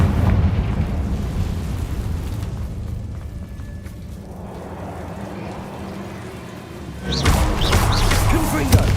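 Confringo blasting spells explode in Hogwarts Legacy, a loud burst of booming blasts at the end following a rumbling, low ambient stretch with faint voices.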